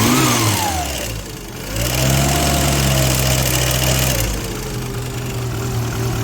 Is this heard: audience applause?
no